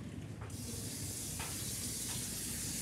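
Water is dumped out of a wash basin in a care facility: a steady, rushing splash that begins abruptly and continues evenly at close range.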